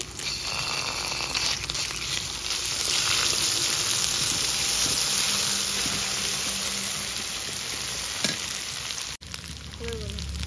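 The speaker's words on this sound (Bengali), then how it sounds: "আদা ভাজা হয়ে গেছে, এবার জিরে বাটা দিচ্ছি" Cumin paste sizzling in a pan after garlic and ginger paste, cooking for chicken kosa: a loud, continuous frying hiss with some stirring scrapes, dropping out briefly near the end before a quieter sizzle returns.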